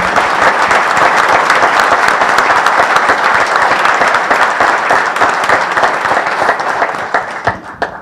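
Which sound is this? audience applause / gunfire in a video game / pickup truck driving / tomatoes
audience applause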